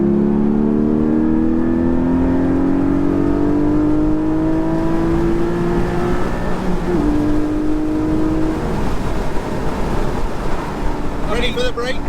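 Porsche sports car, a 911 GT3 or 718 Spyder, accelerating hard, its engine note climbing through the gears with a brief shift dip, loud and close from inside the cabin under a whirring drone.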